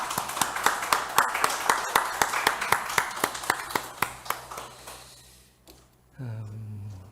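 Church congregation clapping in even rhythm to welcome a returning member at a Sunday service, a steady run of close claps that fades out before a voice begins speaking.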